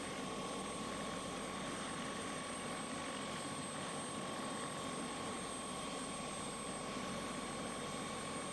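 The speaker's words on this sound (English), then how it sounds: "from where the Trinity House helicopter operates in this area." A Trinity House helicopter flying near St Just Airport toward Land's End, heard as a steady, distant rotor drone that holds unchanged throughout with no voices.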